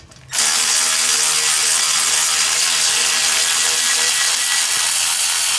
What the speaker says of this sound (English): If you guys don't have one of these Milwaukee 12-volt sidewinders, you need to fucking buy one.